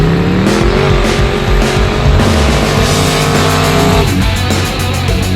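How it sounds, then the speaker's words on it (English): A car doing burnouts, its engine roaring loud and steady with tires squealing and skidding throughout, close and continuous. "And doing burnouts?"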